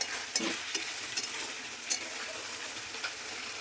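Potol and potato with spices stir-fried in a pan, a steady close sizzle broken by several sharp scrapes and clinks of the spatula as they are turned, with no voices.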